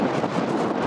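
Strong wind blows across a cyclist's microphone, a dense, steady broadband rush with gusty fluctuations, loud and close for under a second, with no talk.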